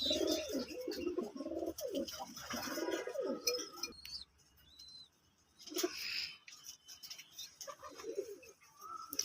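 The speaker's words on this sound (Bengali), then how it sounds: "অনেক পাওয়ারফুল কবুতর সাকি টেডি বেবি" Pakistani Shaki Teddy pigeons coo in a loft, several birds close by giving throaty rolling calls, with a short quieter gap midway before the cooing and a few chirps resume.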